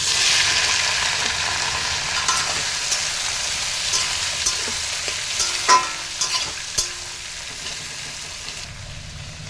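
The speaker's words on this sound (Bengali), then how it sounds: "পেঁয়াজগুলো ভাজা করতে দিয়েছি, আর পেঁয়াজ ভাজার মধ্যে জানো তো আমি নুন দিয়ে দিই" Sliced onions fry in hot oil with salt in a pan, giving a loud, steady sizzle broken by scraping stirs and a few sharp utensil knocks against the pan.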